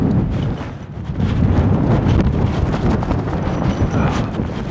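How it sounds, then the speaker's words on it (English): Strong storm wind of 50+ mph buffets a Fjern Stormgrotta tent at a campsite, producing a loud, rumbling roar with gusty surges and no break. "So the wind's just about coming from you to me"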